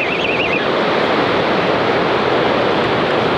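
Sea waves break steadily on a beach during sea fishing for flounder, a loud continuous wash of surf with wind rushing over the microphone and no other sounds.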